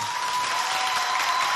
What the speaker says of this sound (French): Applaudissez bien fort pour vous, s'il vous plaît.